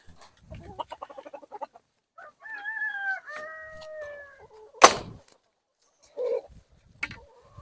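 Farm chickens clucking in a series of short calls, then a rooster's drawn-out crow, followed by a sharp bang and a few scattered clucks near the coops.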